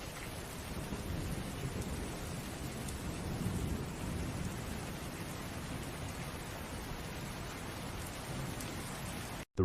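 Steady heavy rain pours down in a dense, even wash with a low rumbling undertone like distant thunder, continuous and enveloping, with no voices, ending in a sudden brief cut.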